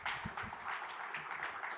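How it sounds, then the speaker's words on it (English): Crowd applause at the official launch of the Imisanzu platform, a dense, even patter of many people clapping together, moderately distant and steady throughout. "Let's give a round of applause for Imisanzu platform."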